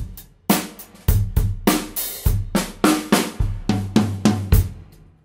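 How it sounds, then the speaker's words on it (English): A linear drum fill on a kit, eighth notes moving between hi-hat and toms, with a dozen or so sharp close strikes in a steady, driving pattern and no talk. "You're playing eighth notes on the hi-hat, eighth notes on your toms."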